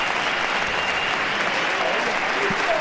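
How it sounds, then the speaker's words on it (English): Warm, sustained applause from a sellout crowd at a sports final, dense and continuous, with a commentator's voice faintly present underneath. "Listen to the warmth of the applause from the sellout crowd."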